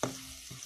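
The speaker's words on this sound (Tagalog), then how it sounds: "Unahin muna natin ang bawang. Ayan, konting mantika, bawang." Garlic sizzles in a little hot cooking oil, a close, faint crackle of frying with a brief stirring scrape.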